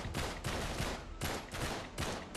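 Rapid gunfire in Uncharted 3: Drake's Deception comes in several loud bursts of shots close together, with brief gaps between volleys.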